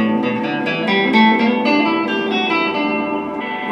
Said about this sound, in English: If you bring it all the way down, it gives a pretty dark sound.